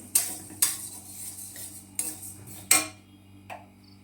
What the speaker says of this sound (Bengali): এখানে দেখো মুগ ডাল ভেজে নিচ্ছি